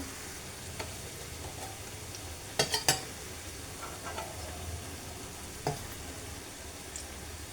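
Shrimp fritters fry in an uncovered pan, a soft steady sizzle with a few brief clinks of a spatula against the pan.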